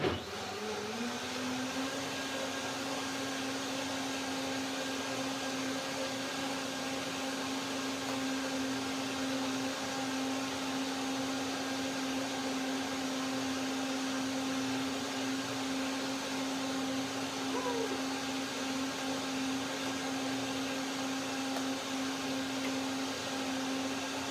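A blender whirs steadily and loudly with a constant motor hum as it blends an apricot shake, the tone holding level throughout with no pauses or voices.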